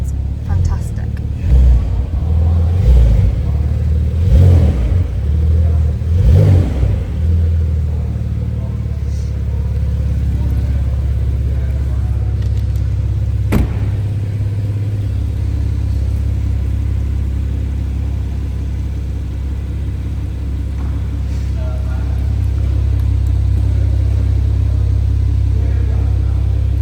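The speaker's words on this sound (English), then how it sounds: "And that sports exhaust sounds fantastic." A Porsche 992 GTS with sports exhaust gives several deep revs early on, then settles into a low, steady rumble that runs on under intermittent talking.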